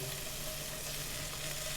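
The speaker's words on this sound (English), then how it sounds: "you can hear that wonderful sizzling coming through." Oysters sizzle steadily in a hot frying pan, a continuous close, even crackle of frying with no talking.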